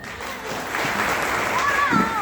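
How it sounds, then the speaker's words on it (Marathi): An audience claps at a community gathering about women, producing dense, steady applause that builds after a moment, with voices mixed into the clapping. "त्याच्यावरती तुम्ही टाळ्या वाजवायला पाहिजे"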